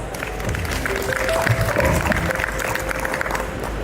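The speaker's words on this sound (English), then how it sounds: "So let's give ourselves a round of applause." A school convocation audience of graduates claps steadily in a hall, a continuous wash of applause at moderate loudness with faint voices mixed in throughout.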